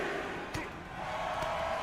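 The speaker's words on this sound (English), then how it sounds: "The sound of this crowd is deafening" A wrestling arena crowd in WWE2K22, a dense sustained roar of cheering with two brief sharp impacts from the ring.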